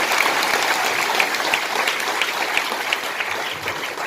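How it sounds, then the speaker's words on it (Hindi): An audience at a Hindi religious discourse applauding in congratulation, dense sustained clapping throughout, loud and even, with no voices over it. "ताली बजाकर अभिनंदन करो।"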